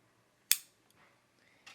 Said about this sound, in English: So I'm going to go ahead and cut this piece